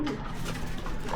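Young pigeons coo softly and briefly in a loft, a short low murmuring call close by.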